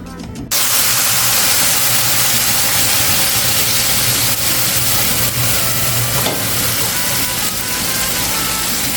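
Red chile sauce for Michoacán-style enchiladas cooks in a pan, starting abruptly with a loud, dense, steady sizzling hiss that runs unbroken with a few faint clicks.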